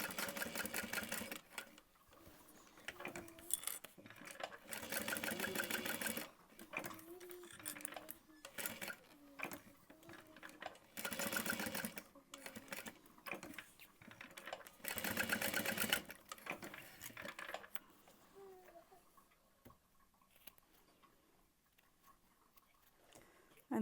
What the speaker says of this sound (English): then we're sewing across the folded ends